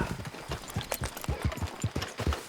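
Horse hooves in Red Dead Redemption 2 clop in a quick, steady rhythm of close, dull thuds over a soft background, with no talk.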